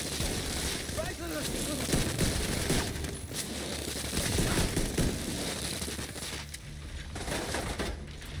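Rapid bursts of machine gun fire in The Division 2, a dense, continuous rattle of repeated shots filling the scene at moderate level, with no clear pauses.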